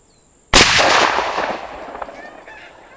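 A single muzzleloader rifle shot fired in cold weather, one sudden loud blast followed by a long, decaying rumble and echo over about two seconds.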